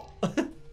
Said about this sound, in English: I love Banjo coughing.